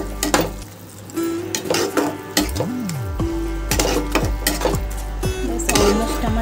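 Paneer bhurji with sugar being stirred in a pan: a run of sharp spatula scrapes and metallic knocks against the pan, repeating every half second or so, up close over a faint sizzle, with no talking.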